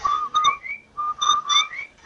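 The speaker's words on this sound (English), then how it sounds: "That's the Rinso White whistle." The Rinso White whistle from an old-time radio commercial: a clear, close, bird-like whistled jingle of several short rising and falling notes in phrases, alone with no talking.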